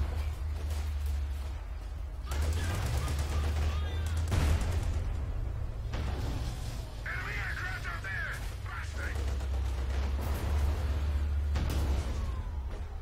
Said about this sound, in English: MG shooting.